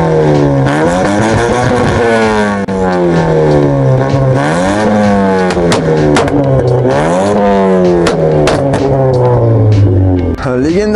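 Engine of a 2015 Daewoo Nexia 2 with a 1.8 motor revving at a car market, loud and close, climbing and falling in repeated sweeping revs with brief dips between them.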